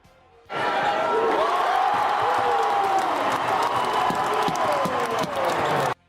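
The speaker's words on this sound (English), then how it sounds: "listen to the crowd after Kevin Ware's shot" A basketball crowd roars and cheers after a three-pointer in a state-versus-Southern rivalry game, bursting in suddenly, staying loud and sustained with shouts and whistles, then cutting off abruptly.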